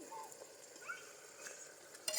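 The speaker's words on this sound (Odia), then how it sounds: "ବର୍ତ୍ତମାନ ତାକୁ କାଚୁରୁ କାଚୁରୁ କରି ଭଜା ହେବ।" Onion paste and ginger-garlic paste frying in a pan for a home-style mutton curry, being stirred: a faint, soft sizzle under light scraping and clinking of a spoon against the pan, with a louder scrape at the end.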